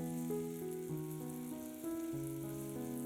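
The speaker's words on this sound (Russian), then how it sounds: "Обжариваем филе для того, чтобы запечатать все соки, и оно получилось сочным." Meat fillet sizzling in a pan over high heat, a soft continuous crackle under steady sustained musical tones, quiet and even throughout.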